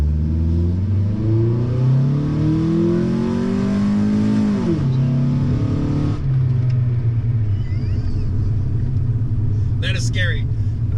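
A Honda Integra launches hard from a standstill, its engine revving loud and close as the pitch climbs through a gear, dips at a shift, then settles into a lower rumble. A brief squeal sounds near the end.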